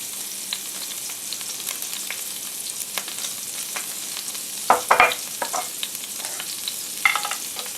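Minced shallots sizzle in cold butter in a cast iron pan for steak Diane, a light continuous crackle with scattered pops and a burst of louder spattering and stirring about two-thirds of the way through.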